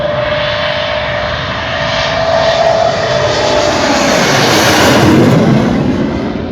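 An air force aircraft passes over a highway converted into a runway at Moran in Assam, its loud engine roar swelling and sweeping steadily across the whole stretch with no talk.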